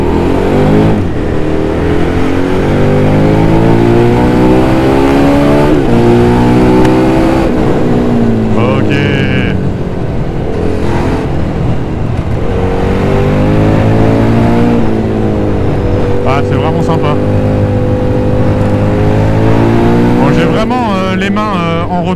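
A KTM Duke 990 motorcycle engine revs and accelerates through several gears, rising and falling in pitch with shifts in between, loud and close, with a rider talking over it.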